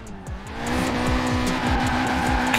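A tuned car driving in Forza Horizon 4, with a steady game engine drone and a sustained tire squeal, close and continuous with no talk.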